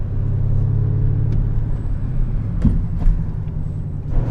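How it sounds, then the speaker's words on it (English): An Audi RS7 on the German Autobahn pulls hard, with a steady, loud low engine and road rumble that swells slightly toward the end as the car gathers speed. "we're about to take the RS7 on the German Autobahn"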